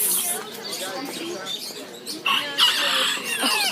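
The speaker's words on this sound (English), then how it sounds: "These are the hens." Hens cluck and chatter in a dense, close chorus at a Paris bird market, with rooster-like calls and other bird noises mixed in and a voice talking underneath.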